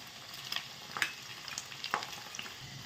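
An egg and potato fry is stirred in a pan, with a soft, close sizzle under a few light scraping strokes and clinks of the spoon.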